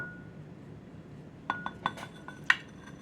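Two bowls set down and handled on a kitchen counter while making Southern style strawberry shortcake, giving a quick run of five or six light, ringing clinks after a quiet start.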